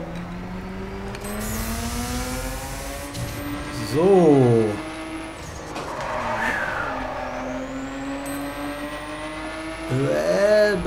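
Racing car in The Crew driving with a steady engine drone, then tires squealing in sharp skids twice, loud and close, while someone talks briefly over it.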